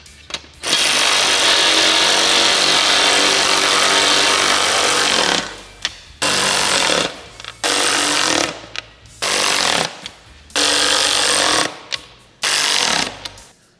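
A power tool drives hardware tight on a glass windshield for a Polaris RZR Pro XP, one long loud whirring run followed by several short bursts with brief gaps.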